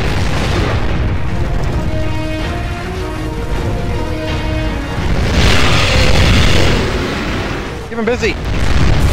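A tank strapped to an enemy's back blows up in Gears of War 3 with a loud, rumbling blast late in the clip, after sustained gunfire and combat noise, while a voice shouts over the action.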